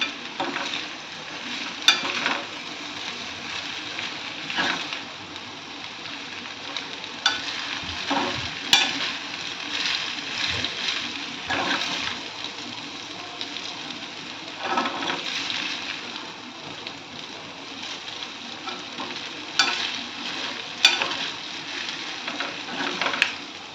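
Veg Hakka noodles are tossed with Hakka noodle masala in a hot frying pan, giving a steady sizzle broken by periodic scraping and stirring strokes every few seconds, close and moderately loud.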